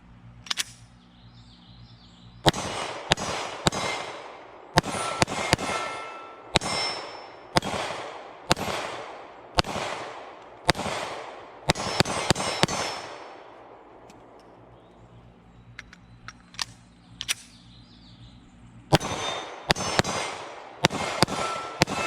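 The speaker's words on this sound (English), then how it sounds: "let's put our first rounds with the Micro Dagger mags through the Glock 48, see how this thing feeds" A Glock 48 pistol fed from Micro Dagger magazines fires at steel targets, loud sharp shots in quick strings and pairs with brief pauses between bursts, the steel ringing back after hits.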